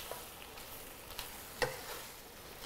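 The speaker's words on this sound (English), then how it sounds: "Now we add in our cabbage, 300 grams of cabbage, Beijing cabbage, just add them in." Beijing cabbage stirred and fried in a pan, a quiet steady sizzle with a few soft scrapes and one sharper clack of the utensil partway through.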